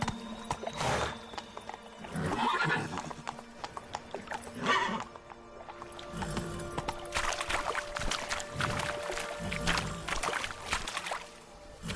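Roach the horse gallops in a video game, rhythmic hoofbeats pounding steadily up close, broken by a loud whinny and splashing, water-like movement.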